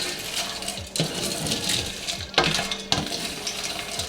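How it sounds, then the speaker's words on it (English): Whole spices including nutmeg toasting in a dry pan, a continuous close crackle and sizzle with sharp rattling bursts as the pan is stirred and shaken. "We're just going to toast these for a couple minutes"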